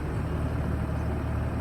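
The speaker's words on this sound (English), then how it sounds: "set the diesel engine to high idle. It is currently on high idle" A Pierce pumper fire engine's diesel engine running at high idle, a loud, steady low rumble with a constant drone and no change in pitch over the short stretch.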